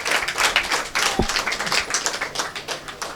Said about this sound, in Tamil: அவர்களுக்கு ஒரு பலத்த கைத்தட்டல் கொடுத்து நீங்கள் பாராட்டுதலை தெரிவிக்க வேண்டும்